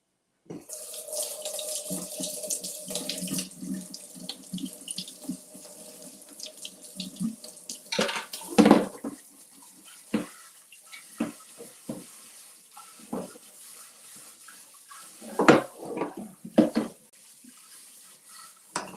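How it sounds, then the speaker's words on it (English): A kitchen water tap runs as something is rinsed under it in a sink, a steady close splashing stream with louder bursts and sputters where the flow hits the object, and occasional clatter. "Let me rinse this off"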